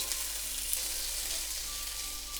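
Chicken meatballs for tsukune skewers fry in a pan over medium heat, giving a steady, close, loud sizzle without pause and no talking.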